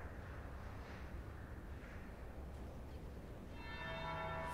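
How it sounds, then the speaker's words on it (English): A church bell rings at the Winter Palace in Dragon Age: Inquisition, a faint distant toll under a low ambient murmur, with a brighter ringing strike near the end. "That would be the second bell."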